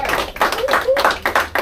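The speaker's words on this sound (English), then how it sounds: "So clap it up for yourselves" A studio audience claps in loose, uneven bursts during a hip hop lecture taping, with separate hand smacks close by and a few short vocal sounds mixed in.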